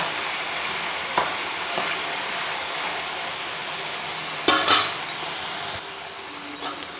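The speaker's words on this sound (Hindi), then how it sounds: "मीडियम फ्लेम पर फ्राई करना है" French fries fry in hot oil over a medium flame: a soft, continuous sizzle with a few sharp clinks from stirring, the loudest burst coming about two-thirds of the way through.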